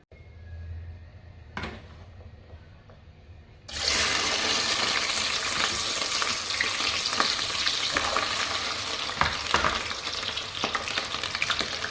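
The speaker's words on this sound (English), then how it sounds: "So we are ready to fry them now." Okra stew ingredients (okra, pounded crayfish, pepper, onion and seasoning cube) hit a hot pan and break into a loud, steady sizzle that stays dense and continuous after a quiet moment with a brief clatter.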